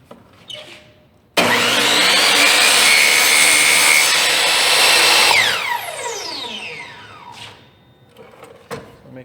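A power saw cuts through wooden door casing trim, a loud sustained whine starting abruptly and running about four seconds before the blade spins down with a falling tone, heard close with no talk.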